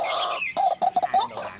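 Red-whiskered bulbuls give several short, clear calls in quick succession, close and fairly loud, followed by quieter chirps.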